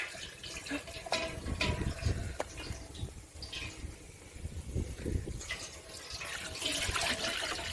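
Maple sap poured slowly from a container through a fabric filter cloth outdoors at a sugar bush, giving a soft, quiet trickling and splashing of liquid with small irregular drips and gurgles.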